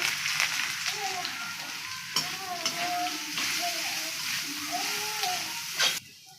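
Dried chillies, curry leaves and cooked urad dal fry steadily in hot oil while being stirred, a continuous close sizzle with scraping, and a voice speaks over it.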